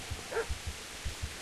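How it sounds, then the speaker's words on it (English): Dog in Kingdom Come Deliverance giving a series of low, muffled barks in an irregular rhythm, fairly faint, with one higher yelp early on. "I feel like the dog barking is significant for some reason."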